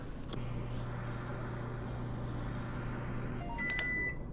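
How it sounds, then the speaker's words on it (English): A microwave oven runs in Job Simulator, a steady low hum over background noise that ends with a series of high electronic beeps. "let me get a shot of the microwave running"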